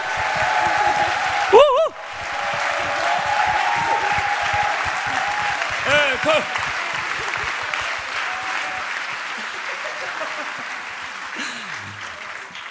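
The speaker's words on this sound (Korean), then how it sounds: "우리 중고등부 학생들 위해서 마음껏 축복해 주시고 박수로 격려해 주십시오" A church congregation applauds high school and middle school students at a prayer service, a sustained crowd clapping with a cheering shout near the start and voices mixed in throughout.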